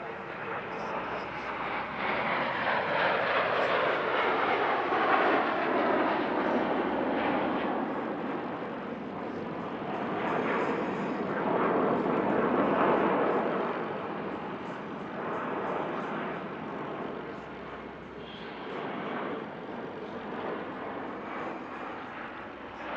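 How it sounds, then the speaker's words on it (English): Jet trainer aircraft fly synchronised aileron rolls at show centre during the Air Legend airshow at Paris-Villaroche, their engines producing a broad, roaring whoosh that swells and fades as they pass, with a commentator talking over it. "The jets point at show centre now for synchronised aileron rolls."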